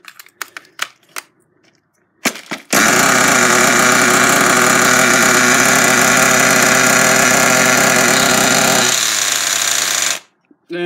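The small two-stroke engine of a Redcat Tornado S30 RC car with loosened exhaust bolts fires up after a few sputtering pull-start attempts, then runs loud and steady at a high buzzing idle for several seconds before cutting off abruptly.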